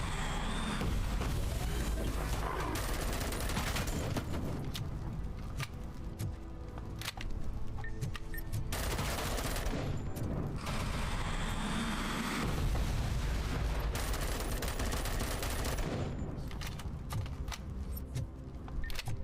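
Gunfire rages in the video game Dune: Awakening, dense and loud, with bursts and blasts piling into a nearly continuous roar that barely lets up.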